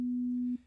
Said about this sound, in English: Let's change our first wave shape here to a sine wave so we get a very smooth tone.